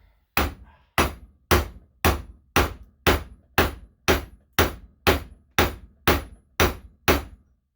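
Hammer blows on a socket seating a rear wheel bearing of a 2009-2013 Honda Rancher 420 ATV with independent rear suspension: thirteen sharp, evenly spaced metallic strikes, loud and close, with no talk.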